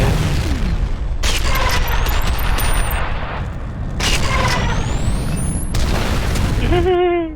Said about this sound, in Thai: เอาระเบิดไประเบิดรีโมทนะนี่นะ